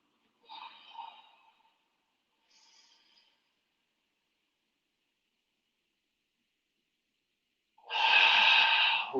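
During a yin yang yoga session, a person breathes audibly: two soft breaths early, a faint one after, then a loud, close exhale after a long silence.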